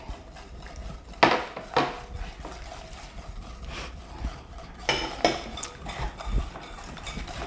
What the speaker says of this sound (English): Eggs are almost blended.